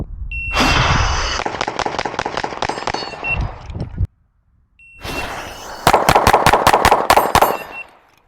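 Rapid pistol shots fired at paper and steel targets on a timed shooting course, loud sharp cracks in quick strings, a brief pause, then another burst of fast evenly spaced shots.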